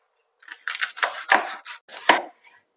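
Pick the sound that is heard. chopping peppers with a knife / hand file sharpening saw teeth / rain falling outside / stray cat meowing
chopping peppers with a knife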